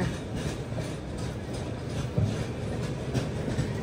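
A passenger train at an Indian station, close by, gives a steady low rumble with faint rhythmic rattling of the carriages, continuous throughout and heard without any talk.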